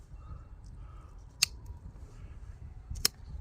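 A grafting tool pressed onto a tree branch gives two sharp, quiet snips or clicks about a second and a half apart, close by over faint low background rumble.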